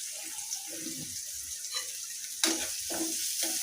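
Chopped onion fries in the same wok (kadai) that has just been used to fry okra, a soft, continuous sizzle with intermittent scraping stirs, close but fairly quiet, and a sharper burst of hissing partway through.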